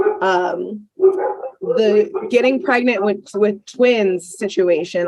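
Several excited dogs barking in the background, faint and intermittent beneath steady close conversation between people talking.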